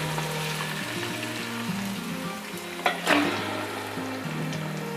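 One kilo of goat mutton hits hot frying green masala in a pan, giving a steady close sizzle with stirring scrapes and a brief louder spatter midway, over soft background music.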